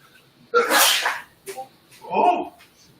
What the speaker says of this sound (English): I'm about to sneeze and be really loud.